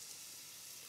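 Onion and garlic sizzle in hot oil, a brief, steady, close hiss of frying with no pauses or voices.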